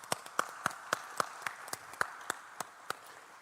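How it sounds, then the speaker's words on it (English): A small crowd applauding police officers at an Austin police chief candidate event, a sparse, steady run of individual claps, fairly close and moderately loud, no voices. "just look around at the officers here and just give them a round of applause"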